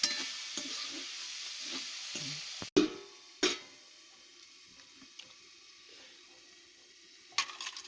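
Cabbage curry sizzles in hot oil in a home kitchen, with a steady hiss and occasional close scrapes and clanks of a stirring spoon against the pan.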